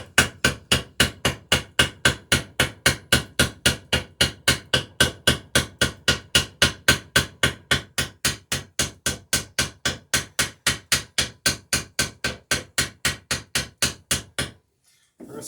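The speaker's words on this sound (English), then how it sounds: "First thing I do when I start forming the rivet is I'll usually give a hit to either side" Steady rapid hammer blows form a copper-style rivet in the frame of a wooden Alpha Dory boat, about three sharp metallic strikes per second, close and loud, continuing evenly for around fourteen seconds before stopping.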